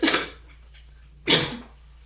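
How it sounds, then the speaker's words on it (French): Two close, sharp coughs from a single person, the second about a second after the first, with quiet between them. "Excusez-moi pour la toux."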